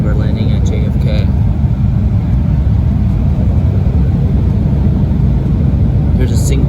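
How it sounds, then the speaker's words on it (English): An Embraer 175 airliner lands at New York JFK, with heavy cabin rumble and road-like roar filling the clip steadily, while voices speak over it briefly. "We're landing at JFK."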